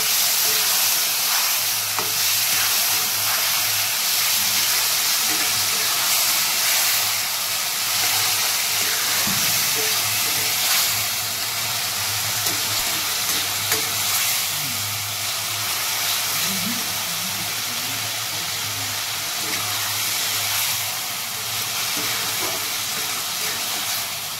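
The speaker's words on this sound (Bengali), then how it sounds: "এবার এতে আমি কষিয়ে নেব" Marinated chicken sautéed in a pan for kosha produces a loud, continuous hiss of steam and frying, with faint scattered clatter and a low steady hum underneath throughout.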